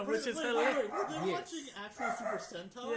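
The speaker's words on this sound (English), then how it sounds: "That was my dog, if y'all could hear him in the background." A pet dog barks and yips in the background of an indoor podcast recording, several short barks scattered under steady conversation between people talking.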